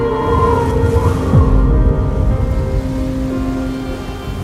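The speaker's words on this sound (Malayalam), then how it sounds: "നല്ല മഴ വരുന്നുണ്ട്." Heavy rain pours down steadily, a loud dense hiss of drops striking surfaces close by, continuous with no voices.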